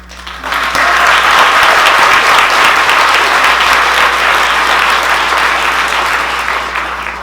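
Loud, sustained audience applause after a film screening, a dense wash of many hands clapping close and full, holding steady before tapering off at the end.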